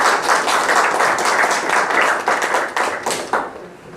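Audience applause at a Ramadan event, dense steady clapping from many hands that thins into a few scattered claps before fading out.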